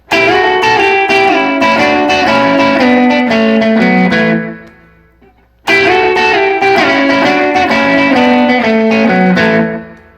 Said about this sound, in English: that next line that he does also, I believe, has slapback on it